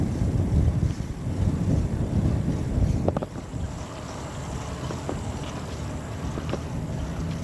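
Crosswind buffeting the microphone outdoors, a loud rumbling gust that eases after about three seconds and carries on as a softer steady rush, with no voices.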